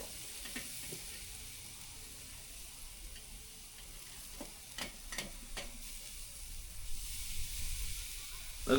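A ribeye steak searing in a hot pan just after being flipped gives a steady, quiet sizzle and hiss with a few sharp pops and crackles, building slightly louder toward the end.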